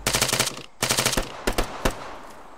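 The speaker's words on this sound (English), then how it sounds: "I really like the sound of this rifle." Rifle fire in the video game ArmA 3 during a co-op firefight: two rapid bursts of loud, close shots, then two single sharp shots, with clipped echoing tails.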